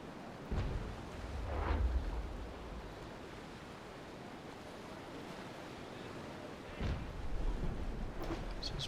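Enemy brig fires cannons in Naval Action, a few distant booms rolling over constant sea wash and wind, spaced several seconds apart, no talk.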